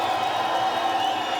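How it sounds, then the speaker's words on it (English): Stadium crowd at a Legends Football League game, Austin Acoustic versus Seattle Mist, giving a steady, sustained roar of cheering across the whole stretch with no clear breaks. "Here comes that crowd once again."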